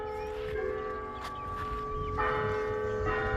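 Church bells ring out from a bell tower with sustained, overlapping tones, a fresh strike landing around the two-second mark; the ringing is moderately loud over a low rumbling outdoor background.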